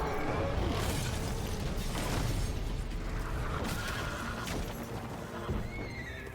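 Geralt's horse Roach whinnying in The Witcher 3: Wild Hunt, a loud neigh rising over clattering hooves and crashing battle noise, fairly close and busy throughout.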